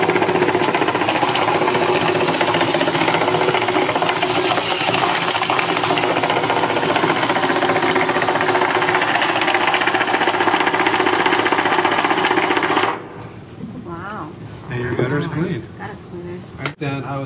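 An iRobot Looj gutter cleaning robot runs with a loud, continuous, close mechanical buzzing and grinding from its motor and auger for about thirteen seconds, then cuts off, leaving quieter handling sounds and a person talking.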